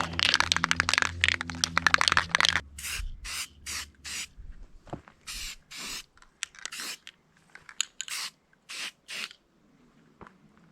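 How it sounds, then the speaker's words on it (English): Spray can painting a wooden block, with a short burst of clanking and rattling followed by a string of short hissing spray bursts, close and separated by brief pauses, then a few faint taps. "got a good coat on the back side, even painted the front side"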